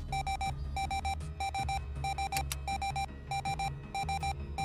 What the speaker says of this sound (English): So we're getting a prox warning. I want to turn it off